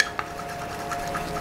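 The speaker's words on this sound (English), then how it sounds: "So I'm just going to be mixing it on this random lid here." Liquid foundation being stirred on a plastic lid during makeup application, soft faint scraping and dabbing with a small tap near the start.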